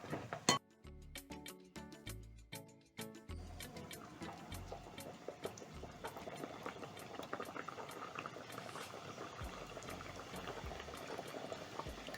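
Mandazi dough frying in hot cooking oil, a steady dense bubbling sizzle that follows a few louder clatters and knocks at the start, then carries on evenly, close and fairly loud.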